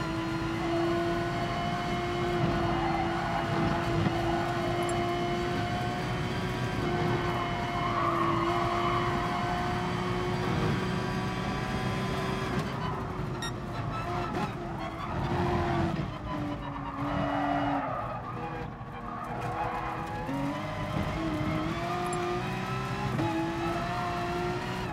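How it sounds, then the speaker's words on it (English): A race car in Gran Turismo Sport slides in oversteer on worn tyres, a steady engine drone under long, wavering squeals of tyre skid that rise and fall through the lap, continuous and fairly loud, with no talk. "tyres are starting to say they've had enough now. Just look at the oversteer."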